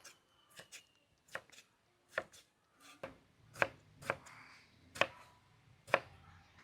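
A knife chopping large tomatoes on a board for beef dum biryani: about nine or ten crisp, close knocks in an uneven, unhurried rhythm, with quiet pauses between cuts and no talking.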